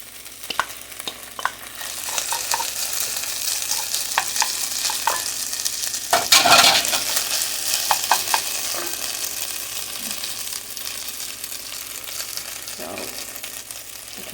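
Garlic sizzles steadily in hot oil for stir-fried rice, a continuous close frying hiss with small crackles and a brief louder burst of stirring midway.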